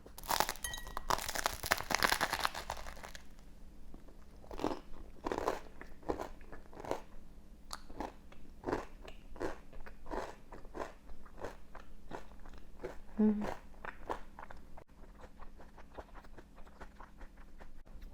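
Crisp, crunchy bites into a crusty baguette sandwich, a loud crackling crunch at first followed by steady, close chewing with small snapping crunches.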